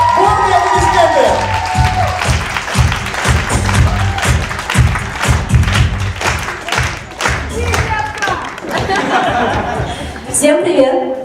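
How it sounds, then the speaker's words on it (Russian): Audience applause at a Science Slam science talk event in Yakutsk, a dense crowd clapping with some cheering and chuckles, steady and loud throughout, with voices mixed in. "Бурные аплодисменты!"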